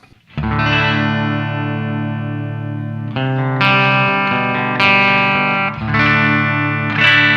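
Clean electric guitar chords from a Glarry Burning Fire guitar on the bridge pickup ring out with sustained harmonic tones, struck again several times over a few seconds, close and fairly loud with no talking.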